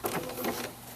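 A sewing machine running a zigzag stitch for applique, a brief close whirring burst of rapid mechanical chatter lasting about a second, with no talking.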